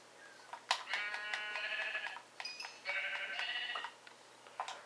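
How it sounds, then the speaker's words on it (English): Sheep in a video game bleat several times in wavering, nasal cries at moderate volume, with short gaps between calls and no voices over them. "there's a lot of sheep over there"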